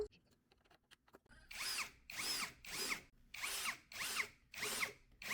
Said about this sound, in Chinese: 电动起子模式。 钻孔钻得好，